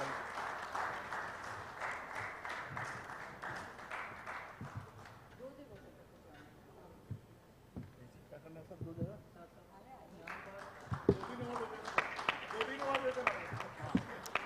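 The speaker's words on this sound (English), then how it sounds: "a round of applause for our Zone Secretary, Smith Saurav" Applause at a live event for an association, starting as a full round of clapping, dropping away while people talk over it, then rising again into scattered claps and cheering.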